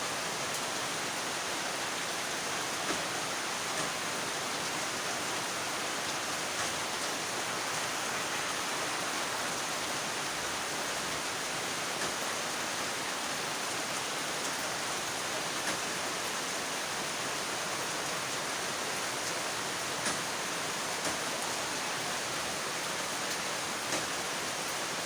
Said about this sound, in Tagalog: malakas pa rin ang ulan